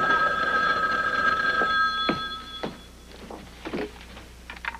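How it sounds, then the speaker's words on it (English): A telephone bell rings in a 1989 TV comedy pilot, a loud trilling ring that stops after about two seconds, followed by softer knocks and movement. "Most people would answer the phone."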